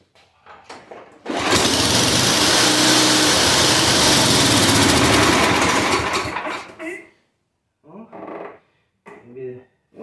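A salvaged curbside snow blower engine catches after a few sputters and roars loudly at close range for several seconds, then cuts out and falls silent, followed by bursts of someone talking.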